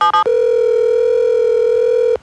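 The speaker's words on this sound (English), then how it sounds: "I'm just about to dial the suspect's number now." A telephone in a video game, with two short clicks and blips and then a loud, steady dial tone held for about two seconds before it cuts off.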